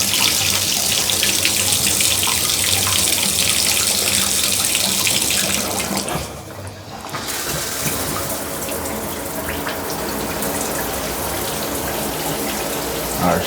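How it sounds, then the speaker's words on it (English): A shower runs after a stripped shower valve was repaired and the diverter switched over, giving a steady, full rush of water that dips briefly midway and then continues slightly softer. "Our shower is working."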